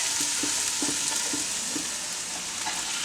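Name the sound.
carrots cooking in soup pot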